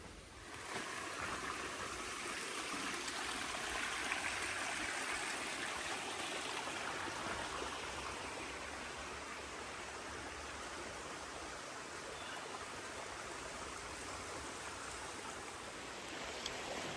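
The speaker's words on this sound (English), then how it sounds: "Still raining a little bit." Light rain falls steadily on the Appalachian Trail near Harpers Ferry during flooding, a continuous close wash of hiss and patter without breaks, with no voices.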